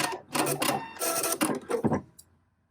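A home sewing machine runs a short back stitch to finish a baby onesie, giving a few quick rapid bursts of mechanical stitching that stop and restart before a brief final click and then quiet.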